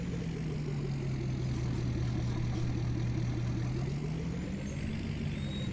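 A tractor engine idles in Farming Simulator 19, a low steady diesel hum with a slight rise in pitch near the end, continuous and close with no talking.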